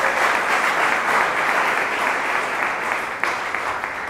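Steady, dense applause fills a theatre at a play's premiere at the French Institute in Bukavu, a large audience clapping continuously at an even level, easing slightly near the end.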